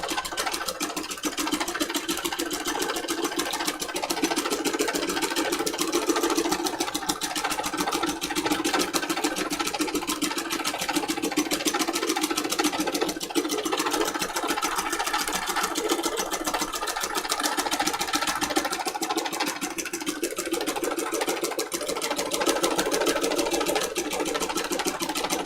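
A sewing machine stitches free-motion embroidery on fabric for a junk journal cover, running in a steady, continuous mechanical whir at close range with no pauses and no voices.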